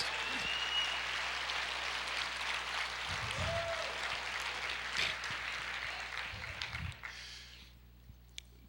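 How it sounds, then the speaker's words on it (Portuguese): A congregation applauds Jesus in a church service, a faint, steady wash of many hands clapping with a few louder claps and stray voices, thinning out and stopping near the end. "Quantos podem aplaudir o Senhor Jesus?"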